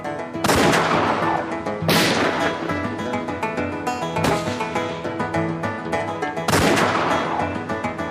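Loud gunshots from a bullet catch stage trick ring out in a spaced series, about four sharp blasts roughly two seconds apart, each with a long ringing decay and no talking.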